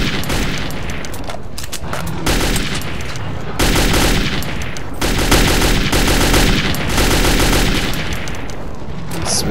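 Gunfire in the post-apocalyptic shooter Metro 2033, loud and continuous, with dense overlapping shots and bursts filling the whole stretch and no pauses.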